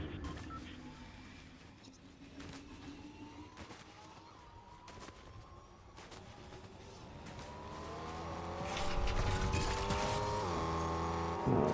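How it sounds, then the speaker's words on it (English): A car in the Fortnite video game accelerates with rising engine revs and tire noise. Sharp gunshot-like cracks and some voices overlap it, and the engine grows louder toward the end. "Nice car, Sam"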